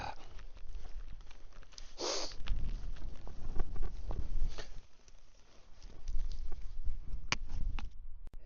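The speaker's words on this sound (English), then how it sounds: "here's the rain back on again" Rain falling at a lakeside camp at Haweswater, a soft, steady patter over dull broadband noise with a few scattered taps and rustles close by.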